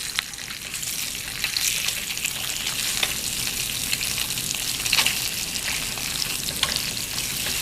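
Slices of Spam sizzle and crackle in a frying pan for a Spam musubi, a steady close frying hiss with small pops and brief clicks as chopsticks flip them.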